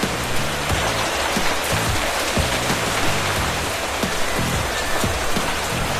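Steady rain from the video game Minecraft falls as a dense, even hiss, with soft low thumps underneath, continuous and close throughout.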